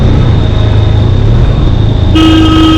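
Steady road traffic rumble on a town street in Jamner, heard from a motorbike, with a car horn sounding a sustained toot near the end.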